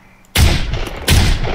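Gunfire in the survival video game SCUM: two sharp, loud bursts of shots roughly three-quarters of a second apart, each followed by a ringing, rumbling tail.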